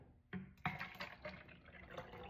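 Apple cider vinegar drink is poured into a container, two quick splashes starting a soft, close trickle of liquid that sloshes briefly, quiet with no talking.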